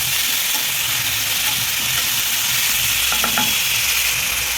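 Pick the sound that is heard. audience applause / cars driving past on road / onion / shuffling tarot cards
onion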